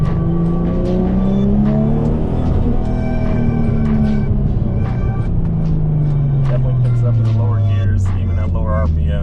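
A Nissan R32 GTR with a single turbo accelerates in short pulls, its engine note rising and falling in a loud, close drone with turbo whistle, while a person talks over it throughout.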